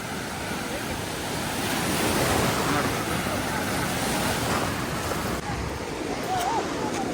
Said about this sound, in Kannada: ನೋಡಿ ರಭಸವಾಗಿ ಅಲೆ ಬರ್ತಾನೆ ಇರುತ್ತೆ ಇಲ್ಲಿ